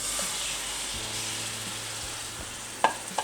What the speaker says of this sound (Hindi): तो अभी हम चिकन को फ्राई करेंगे।